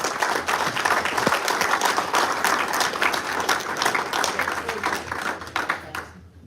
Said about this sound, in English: Can we have a big round of applause for our finalists?